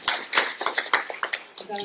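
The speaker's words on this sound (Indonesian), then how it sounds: "Berikan tepuk tangan bagi Tuhan kita." A church congregation claps for God during a sermon, a short burst of uneven, separate handclaps close by, mixed with voices.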